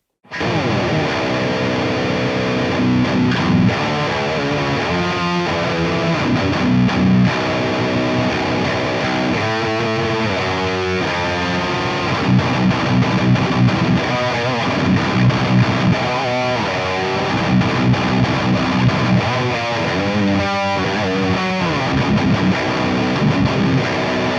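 Heavily distorted metal guitar played through a Line 6 Pod Express Black amp modeler, thick chunky riffs and chugging palm-muted chords running loud and continuous, with brief stops and bursts, no voices.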